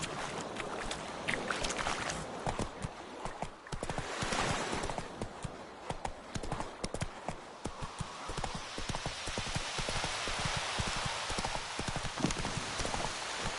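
Roach, a horse in The Witcher 3, trots with clear rhythmic clip-clop hoofbeats through the whole stretch, close and steady, over a bed of outdoor ambience.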